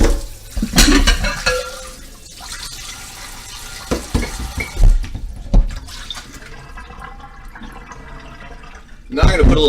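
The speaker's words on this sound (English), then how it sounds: "I'm going to rinse it off so it doesn't have any dust on it." Tap water runs and splashes while a serving bowl is rinsed off, a continuous close-up gush with irregular sloshes and clatters that swells again at the end.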